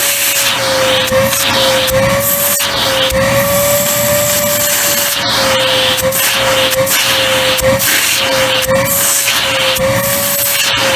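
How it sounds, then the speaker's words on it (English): A Dirt Devil handheld vacuum cleaner runs close by, its steady motor whine riding over loud rushing suction air, with a few brief clicks and bumps and no voices. "Again, here's the suction power of Dirt Devil."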